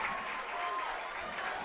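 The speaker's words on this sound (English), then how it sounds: "we hear a lot of noise from the crowd" A stadium crowd at a 2017 MIAA college football game between Lindenwood and Washburn cheers and applauds in a steady, continuous roar that fills the whole moment.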